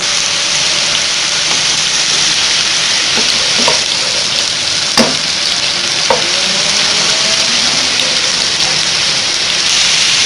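Steady, dense sizzling of garlic and ginger frying in butter for chicken white karahi, close and loud, with a few soft clicks of a utensil stirring the pan.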